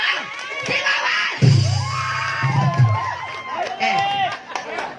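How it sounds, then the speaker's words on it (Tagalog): Audience at a live jam shouting and cheering loudly, with excited children's and adults' voices overlapping in bursts and rises, close and energetic throughout. "Isang malakas ang palakpakan may kasama."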